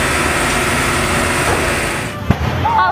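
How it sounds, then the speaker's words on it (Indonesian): A burning illegal fuel storage warehouse in Dumai, Riau, with a steady roar of fire and noise, then one sharp explosive bang near the end and a rising whistling tone after it. "Warga setempat pun panik karena selain api yang membesar juga sempat terjadi beberapa kali ledakan."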